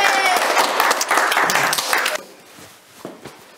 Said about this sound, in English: Give yourselves a big cheer for being so clever today.